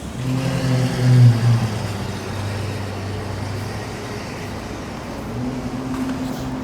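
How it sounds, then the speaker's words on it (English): A Ferrari passing on a street in Tokyo, Japan, its engine droning low and steady with a brief swell as it revs by, heard amid general traffic noise. "that was a Ferrari"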